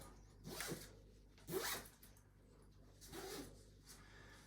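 A zipper is run along the fabric cover of a Nuna Demi Next stroller mattress in three quick, close pulls, each a rasping sweep over a quiet room.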